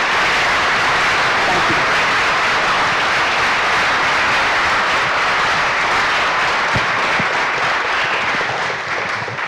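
A lecture audience at the Clinton School breaks into sustained, loud applause, a dense wash of clapping that holds steady throughout, with a brief spoken thanks under it.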